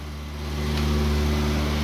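A Land Rover 2.25-litre petrol engine runs close by just after its first start, a steady, loud droning hum as it revs freely while warming from cold.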